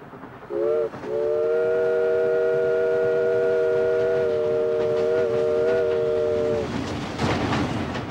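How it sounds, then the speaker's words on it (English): A train whistle sounds a short toot, then one long, steady multi-tone blast lasting several seconds over a low rumbling background, fairly close and loud. "that reducer of the miles, the train."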